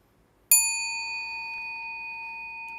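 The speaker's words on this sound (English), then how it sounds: "Bell sound wide resounds throughout 100 million worlds." A large temple bell is struck once during a Buddhist sutra lecture, giving a sudden bright clang that rings on as a sustained, slowly fading tone.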